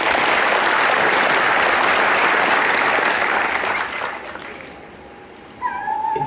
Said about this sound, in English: Why don't all of us give a big round of applause to them?